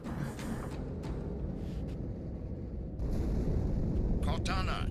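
An explosion aboard the ship Athens in Halo 2 gives a deep, sustained rumble that swells louder partway through, with game voices faintly under the blast.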